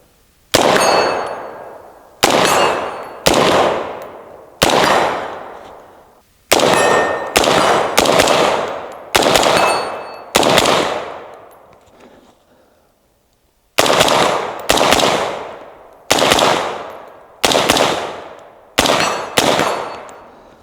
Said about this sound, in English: I'll take a few shots here.